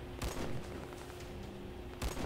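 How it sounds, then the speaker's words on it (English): Gunfire in the video game Metal Reaper: two loud, sharp bursts of shots, one near the start and one near the end, over a steady, droning game soundtrack. "Gunfire and explosions fall flat"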